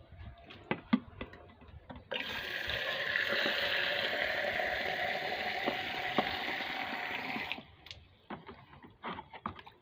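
Water is poured onto young ivy gourd plants in a home garden, a steady rushing splash lasting several seconds, bracketed by light ticks and taps before and after.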